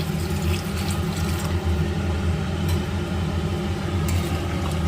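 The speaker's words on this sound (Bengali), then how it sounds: "দেখো আমি কিন্তু এখানে জলটা দিয়ে দিচ্ছি" Water being poured into a pan of potato and pointed gourd curry, making a loud, continuous rushing splash that runs steadily for several seconds.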